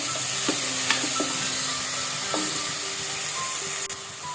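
Onions cook with salt in a pan under a steady, close sizzle, with a few light spoon taps and short scrapes along the way. No voices are heard.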